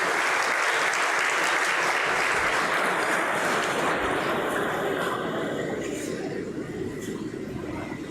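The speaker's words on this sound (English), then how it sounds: "Let's welcome them with a huge round of applause." Loud, dense applause from a large audience greeting deans as they take the stage at a university orientation programme, holding steady and then easing slightly toward the end.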